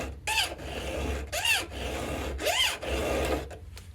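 Metal being hand-filed with a square file, three rasping strokes spaced about a second apart, each a gritty scrape that rises and falls, close and fairly loud with quiet between.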